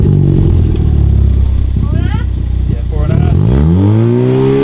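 Ford Fiesta ST180 fitted with a WRC exhaust and silencer revs loudly up close, a steady engine drone swelling near the end, with someone speaking briefly over it.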